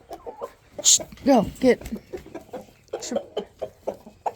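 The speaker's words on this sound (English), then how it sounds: "Got a hen that's getting pecked on." Hens cluck and squawk close by in a backyard flock where one hen is being pecked, with sharp bursts amid steady clucking as a person briefly speaks over them.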